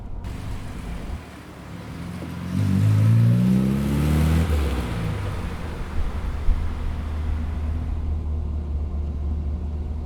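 An Austin-Healey Frogeye Sprite's small engine hums and then revs up, the pitch climbing and dropping as it shifts through gears, steady road noise underneath.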